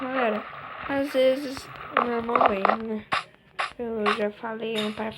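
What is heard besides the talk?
No everyday noises stand out.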